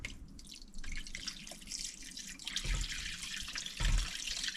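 Brine poured over cleaned ducks in a container at home, a steady trickling, splashing pour of liquid with a couple of heavier gushes, close and alone with no talk.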